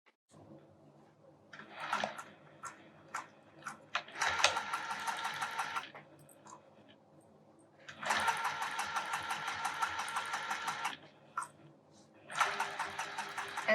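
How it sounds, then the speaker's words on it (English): Sewing machine stitching binding onto a quilt edge, running in several sustained bursts with short pauses between them, close and fairly loud, with faint background noise in the gaps. "And now I'm going to start sewing right off this edge and all the way down."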